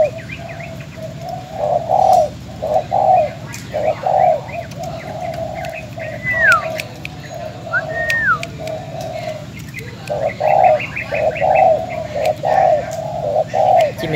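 A spotted dove coos repeatedly from close by, its soft rhythmic phrases rising and falling in regular bursts, with a few faint chirps and a brief whistle in between.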